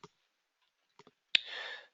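A computer mouse clicks while working in quoting software, a few sharp close clicks in near silence followed by a brief louder click and a short hiss.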